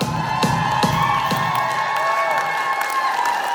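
Wedding guests at a table clapping and cheering without pause at a Kazakh toi, a steady crowd roar with a few sharp claps early on under sustained festive noise.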